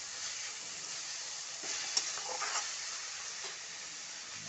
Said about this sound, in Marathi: चांगलं परतून घ्यायचं आहे मेथी तेलामध्ये लसूण आणि हिरवी मिरची सगळीकडे लागली पाहिजे अशा प्रकारे परतून घ्यायचं आहे